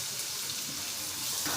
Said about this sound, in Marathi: त्यानंतर आपण शिमला मिरची टाकलेली आहे ती चांगली परतून घेतलेली आहे